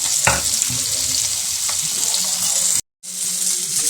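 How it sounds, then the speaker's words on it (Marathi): Freshwater fish sizzle and fry steadily in hot oil on a flat pan, a bright continuous crackle with a few soft clinks of a utensil, briefly cutting out near the end. "सगळे मासे तव्यात ठेव"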